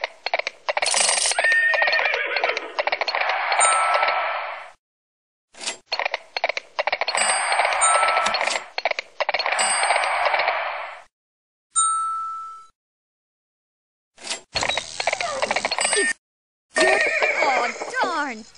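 Horse neighs and whinnies from the Reading Blaster 5th Grade video game, repeated loud bursts separated by short gaps, mixed with chime-like dings and game effects.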